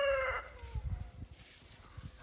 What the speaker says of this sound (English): The geese are asking me to let them out too.